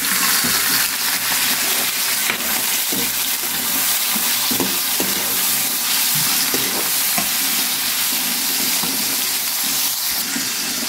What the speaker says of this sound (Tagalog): Ilalagay na natin itong ating atay mga kabor at saka yung dahon ng laurel.